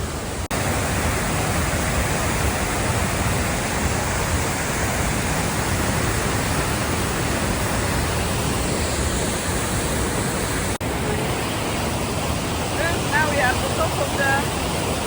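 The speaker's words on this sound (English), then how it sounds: "Top of the waterfall, you can see where the water coming from." Morton waterfall at Campbell River, British Columbia, rushes with a loud, continuous broadband roar close by, unbroken for the whole stretch, with faint exclamations near the end.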